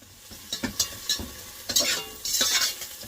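Ginger garlic paste frying in a pan, crackling sizzle with repeated spoon scrapes and stirring strokes building toward the end, no talking.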